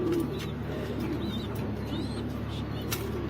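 Racing pigeons in a cage give soft, repeated coos close by, over a low steady background hum, with faint chirps between the calls.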